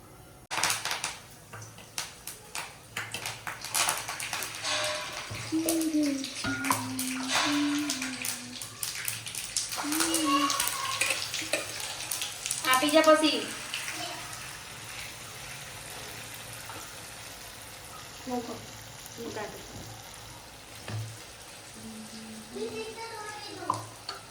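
Handvo batter with sesame seeds frying in hot oil in a kadai, sizzling and spattering loudly with scraping stirs, then settling to a softer hiss, with brief voices in the background.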